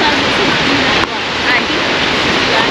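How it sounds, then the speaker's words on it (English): Spectacular waterfall in icy winter conditions on Iceland, a steady, loud broadband roar of falling water that continues throughout with no pause or break. "absolutely spectacular waterfall"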